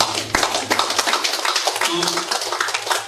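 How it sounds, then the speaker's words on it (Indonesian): Audience clapping during a talk about books, with scattered hand claps blending into a busy, reverberant room noise and a few sharper individual claps near the start. "Tepuk tangan maju."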